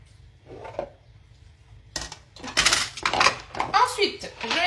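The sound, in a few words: stirring onions and mushrooms together in a pan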